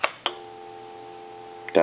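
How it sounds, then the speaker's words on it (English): A Mickey Mouse telephone gives a steady, continuous dial tone after a click as the line connects. The tone holds evenly for about a second and a half, then ends in a clatter as the handset is hung up. "We have dial tone"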